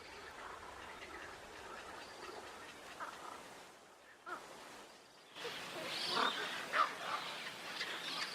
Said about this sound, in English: Spoonbills, little egrets and cormorants breed in mixed colonies.